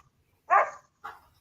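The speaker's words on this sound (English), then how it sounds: "Daisy, you hear my dog?" A pet dog barks twice, one sharp bark followed by a shorter, softer one, close by and alone against a quiet background.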